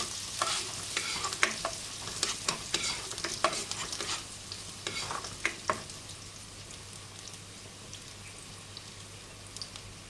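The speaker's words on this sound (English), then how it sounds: "So first in goes garlic. So we used 3 pieces of garlic here. Toss it well." Garlic (three cloves) tossed in a hot pan for low-fat chicken Manchurian, a steady frying hiss with a quick run of close stirring clicks and scrapes that thins out halfway, leaving a quieter sizzle.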